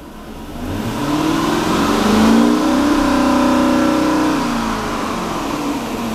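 A Hellcat Hemi V8 revs up from idle to about 3,500 RPM and holds there, a loud, close, rising engine roar that settles back down afterward.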